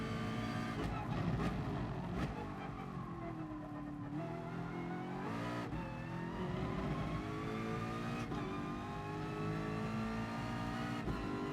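A race car engine in GT Sport on a track, revving steadily throughout with pitch rising and falling through gear changes and corners, loud and continuous.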